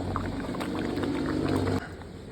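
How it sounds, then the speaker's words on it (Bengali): Soybean chunks tip into a simmering curry in a pot, giving a steady bubbling, liquid hiss that stays loud for nearly two seconds before suddenly dropping to a quieter simmer. "দেখো আমি এখন সোয়াবিনগুলো দিয়ে দিই।"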